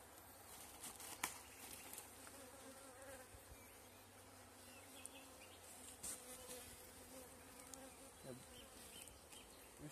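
Honeybees buzz steadily in an upper hive box opened for a May inspection, a dense close hum that holds throughout with occasional brief knocks and rustles.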